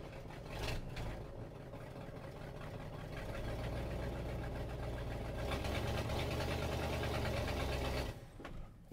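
A 1968 Ford F350 Bumpside engine idles with a steady, rough mid-pitched rumble that grows slightly heavier as the clutch engages, then cuts off briefly near the end; close by and alone, with no talking.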